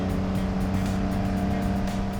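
A 1963 Ferrari 250 GTE engine runs steadily at a constant idle-to-mid rev, a loud, close, continuous mechanical drone with a rich layered hum and no voices.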